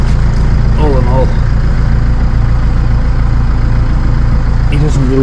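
A diesel van engine idles steadily, loud and close, with a constant low throb and brief voices talking over it.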